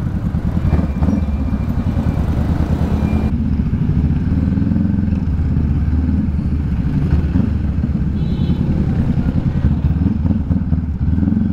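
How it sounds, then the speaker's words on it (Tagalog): A Honda Rebel 500 motorcycle engine runs loud and close, a constant rumbling drone with a brief rev change early on, steady throughout. "Sana marinig na yung tunog ng motor natin."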